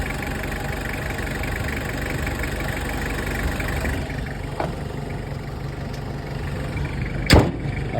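A 1997 Toyota Mighty-X pickup engine ticks over at idle, a steady, even mechanical drone that carries on alone, with a sharp click or door-like knock near the end.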